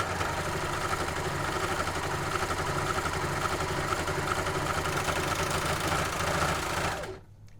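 A Janome overlocker stitches a seam along two layers of fabric, wrong sides together. Its steady, rapid mechanical whirring runs close and continuous, then stops abruptly near the end.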